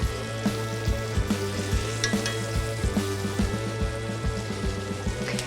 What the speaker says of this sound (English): I'm only going to sear 2 at a time right now